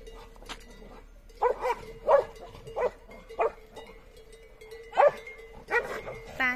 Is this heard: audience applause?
no